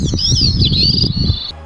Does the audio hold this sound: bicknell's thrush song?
yes